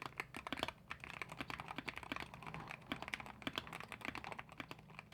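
Rapid typing on a Wooting 60HE mechanical keyboard modified with over $300 in mods, dense bursts of muted, deep clacks with bright key hits, steady and close.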